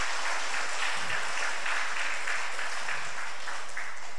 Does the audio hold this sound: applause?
yes